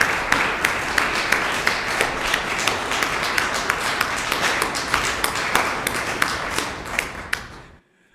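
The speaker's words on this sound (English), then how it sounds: "I think we ought to give all our presenters and volunteers a round of applause." Audience members at a community gathering honouring presenters and volunteers clap together in a steady, dense round of applause that holds throughout, with some louder individual claps standing out, before cutting off abruptly at the end.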